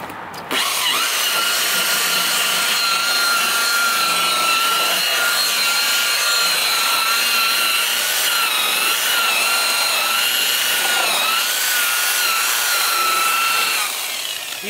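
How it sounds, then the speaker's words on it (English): A car paint buffer runs steadily while polishing a car, producing a continuous close, high whirring drone that holds for about fourteen seconds with slight pitch wavers as pressure shifts. "if you've never used this type of buffer, be careful."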